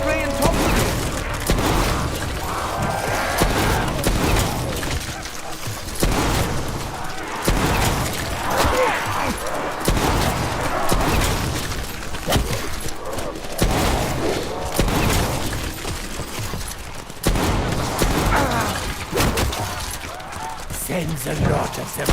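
Sustained automatic weapon fire in Black Ops 4 Zombies, Blood of the Dead, with heavy recoil-driven bursts and booms repeating almost continuously, loud and close, mixed with occasional voices.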